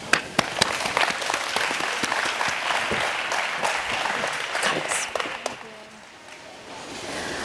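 An audience gives sustained, lively applause to welcome a panel at a day-two closing session, with dense clapping that fades out near the end.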